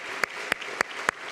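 During a Sunday afternoon church service, a few sharp, evenly spaced claps ring out faintly, four distinct hand claps in a steady rhythm over a quiet room.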